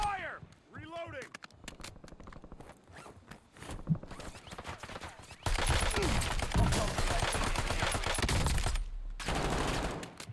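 Rapid gunfire crackles in a video game shooter, starting with scattered shots and swelling into a loud, sustained barrage after a few seconds before cutting off near the end, with voices talking over it.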